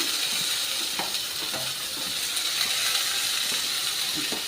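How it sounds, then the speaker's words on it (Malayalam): Sliced onion hits a pan of fried garlic and keeps up a steady, hissing sizzle of hot oil, with faint clicks of stirring scattered through the close, continuous frying noise. "നമുക്ക് സവോള ഇടാം സവോള ഉള്ളി ഇടാം"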